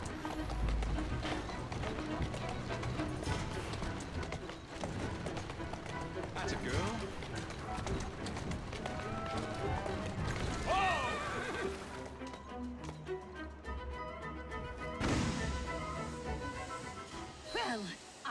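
A horse whinnies and its hooves clip-clop at a run in Assassin's Creed Syndicate, over a busy, continuous mix of game sounds and music.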